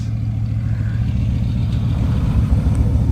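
A Bugatti Veyron whose engine warning light is on runs with a steady, loud, deep rumble up close and no clear rise in revs. No one speaks.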